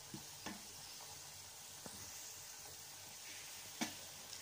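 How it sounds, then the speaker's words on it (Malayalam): Chopped tomatoes frying in spice masala, a quiet continuous sizzle with a few distinct spatula scrapes and knocks as they are stirred. "ഇപ്പം തക്കാളി ചേർത്ത് നന്നായി ഇളക്കുക."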